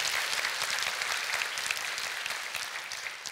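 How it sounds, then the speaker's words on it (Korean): A steady wash of audience clapping in an auditorium at a talk-show stage event, offered as encouragement for a speaker's quit-smoking testimony; moderately distant and continuous, with no talking over it. "여러분 응원의 박수 좀 부탁드리고요"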